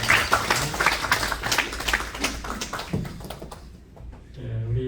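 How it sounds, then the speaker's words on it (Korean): A church congregation applauds a women's vocal ensemble, a dense patter of many hands clapping close and steady that thins out and fades, followed by a brief lull and a voice starting to speak at the end. "우리 여성 중창단 위해서 한번 격려의 박수 한번"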